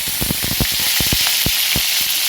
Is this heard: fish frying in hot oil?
yes